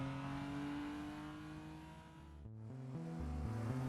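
A 1971 BMW 2002 driven in the Assetto Corsa racing game, its engine revving steadily with a clear tonal drone, dipping briefly before climbing again through stepped gear changes, heard alone at a moderate distance.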